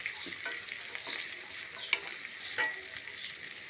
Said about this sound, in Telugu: ఇప్పుడు క్యారెట్, దుంపలు ఇది బాగా వేచాలి